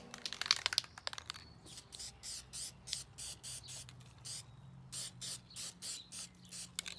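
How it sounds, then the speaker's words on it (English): Short bursts of hissing high-heat black spray paint onto a wood stove pipe radiant shield, one after another in a steady rhythm, close up and fairly quiet. "Giving a quick dab of spray with some high heat temperature black paint."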